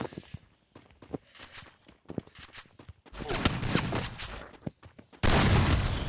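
Rapid gunfire in a video game, with sparse shots and footstep-like clicks early on, then dense, loud bursts of automatic fire building toward the end.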